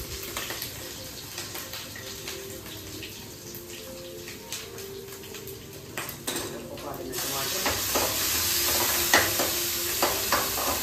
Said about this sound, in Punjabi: ਪਿਆਜ਼ ਤੇ ਟਮਾਟਰ ਜਿਹੜੇ ਨੇ ਚੰਗੀ ਤਰ੍ਹਾਂ ਭੁੱਜ ਗਏ